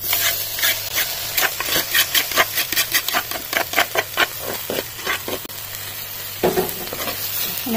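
Green beans being stirred in a hot pan, a steady run of close scraping, rubbing strokes over a soft sizzle, with a brief pause near the end before stirring resumes.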